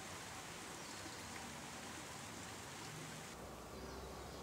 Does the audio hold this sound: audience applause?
no